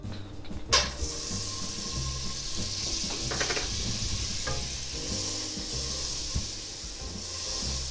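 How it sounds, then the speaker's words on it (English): Shrimp sizzle in butter in a pot for seafood gumbo, a close steady hiss marked by a few scraping stirs and clinks. No voices are heard. "we're going to throw 1/4 cup of butter inside our pot and stir that shrimp"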